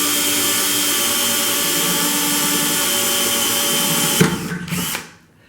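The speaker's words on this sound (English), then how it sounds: "I'll put it into the drill. We'll go ahead and drill this out." A power drill runs continuously at close range, drilling out a pilot hole in a puck with a steady high whine, then cuts off with a few brief bursts as it spins down.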